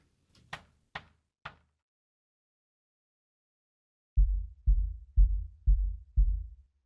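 Five deep, booming low kick hits in a steady rhythm, preceded by a few short, sharp clicks and a moment of silence.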